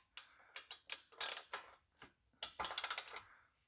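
Ratchet with a 14mm socket loosening the ball joint retaining bolt on a Mazda CX-7 front lower control arm, a quick close series of sharp ratcheting clicks in two uneven bursts with a short gap between.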